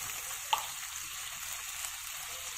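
Garlic fries in a pan with a soft, steady sizzling hiss and a few faint pops, no voices.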